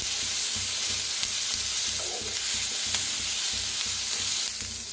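Onion, green chillies, garlic and ginger sizzle steadily in a pan while a spoon stirs with a regular scraping rhythm, close and continuous with no talking.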